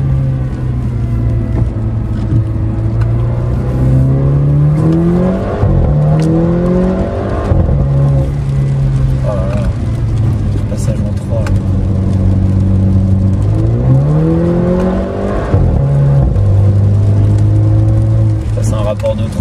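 A Mercedes A250 drives and accelerates, its engine note droning and rising in pitch through several pulls, heard close from inside the car with a voice talking over it.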